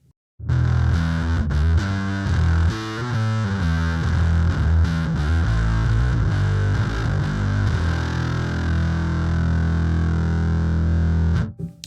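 Bass guitar fed through a fuzz pedal with the tone switch flipped up: a run of loud, gritty, saturated notes, then one long held note buzzing steadily until it cuts off abruptly, with no voices.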